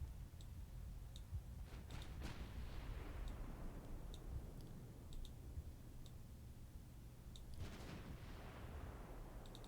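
Naval guns firing in Ultimate Admiral Dreadnoughts, with repeated heavy booms and rumbling blasts over a constant low battle drone, plus scattered small clicks and ticks throughout.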